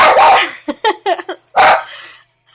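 A pet dog indoors barks at a squirrel outside: two loud bursts of barking with quicker yips between, close and alone.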